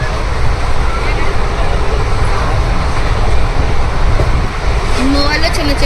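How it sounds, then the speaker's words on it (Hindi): Dense, steady rumble of a busy railway station at Haridwar with trains, a continuous wash of mechanical and crowd noise with no clear breaks, loud and close throughout. "अब हम आ गए हैं हरिद्वार का रेलवे स्टेशन"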